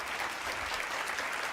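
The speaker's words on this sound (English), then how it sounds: "Give Estero a big round of applause." A quiz-team competition audience claps for the Estero team, a brief, full burst of steady crowd applause with no voices over it.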